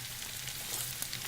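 Baby portobello mushrooms with onions and garlic sizzle in a hot pan, giving a faint, steady crackling fry with small pops, heard alone for a brief moment.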